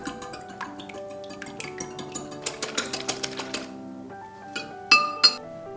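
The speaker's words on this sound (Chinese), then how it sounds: "1个鸡蛋打散" An egg is whisked in a bowl for a muffin batter, with quick, regular metallic clinks of the whisk against the bowl, then a pause and a few louder taps.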